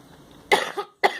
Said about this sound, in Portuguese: Perdão, pessoal, tô com uma tosse horrível.